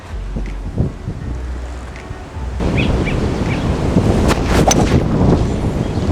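Strong wind gusts across an open golf course during a Nebraska match play championship, a loud steady roar with buffeting on the microphone that grows heavier midway, with no voices.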